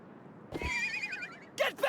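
A horse neighs in the Wild West chapter of the video game Live A Live, a sharp rising whinny at mid-distance, followed by two short snorting bursts near the end, with no talk.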